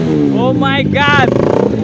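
A motorcycle revs hard at a live bike stunt show, its engine pitch sweeping up and down in two short bursts over a steady idle, loud and close, with voices in the background.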